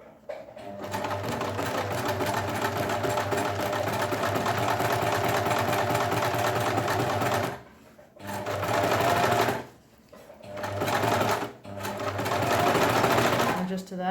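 A sewing machine stitches a set-in sleeve, its foot guided along the raw edge, in loud continuous whirring bursts: one long run, then several shorter runs separated by brief pauses.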